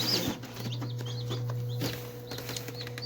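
Newly hatched chicks peep in soft, high chirps at close range over a steady low hum, with occasional flapping and rustling.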